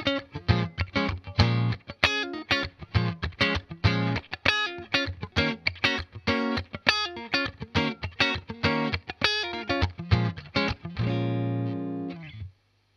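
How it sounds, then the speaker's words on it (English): Clean tone from a Deluxe Strat electric guitar played through a Fender Deluxe Reverb tube amplifier, a tight funk rhythm of choppy strummed chords with a touch of amp reverb, close and prominent, ending on a sustained ringing chord. "I'm playing my Deluxe Strat going into my Fender Deluxe Reverb amplifier."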